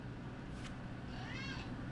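A house cat gives a single drawn-out meow about midway, heard over a constant low indoor rumble.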